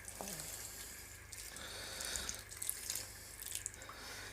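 Water runs softly from a tap into a garden sink, a faint continuous splashing trickle with small drips, heard alone with no voices.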